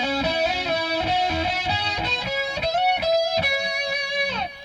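An electric guitar played through a Greaser effects preset rings out in distorted, sustained notes and chords with a gritty edge, a short loud phrase ending in a bend, no talking.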